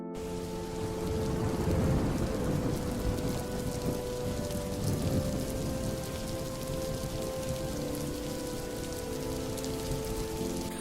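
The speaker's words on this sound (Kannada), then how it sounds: "ಈಗ ಮಳೆ ಬಂತು" Steady rain pours down without a break, a dense even hiss with a low rumble underneath and no voices.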